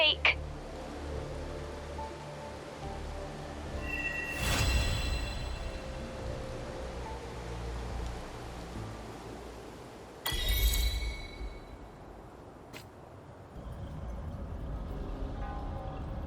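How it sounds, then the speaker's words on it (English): Steady hiss of rain pours down in the Wuthering Waves game world at Jinzhou, a broad continuous wash running throughout, with a couple of louder bursts and rumbles breaking through. "This rain, it's finally happening."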